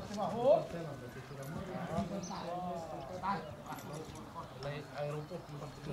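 Stallions at a farm in Sura Mare, Sibiu, shifting about with occasional hoof clops amid background activity, while people talk in Romanian throughout.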